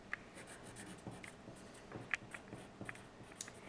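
A pencil writes a first and last name on a paper worksheet: quiet, close scratching strokes in short irregular bursts, with faint ticks as the tip meets and leaves the page.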